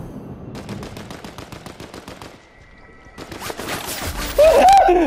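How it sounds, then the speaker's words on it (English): Charged shotgun fired in a Zeus-themed action video game, a rapid run of sharp repeated blasts, a brief lull with a low tone, then a loud burst of heavy blasts and crackling effects. "Is this a shotgun? What is this? It's like a charged shotgun."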